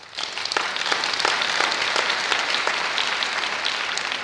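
A church audience bursts into applause, a loud, dense wash of many hands clapping that swells quickly and holds steady with no talking over it.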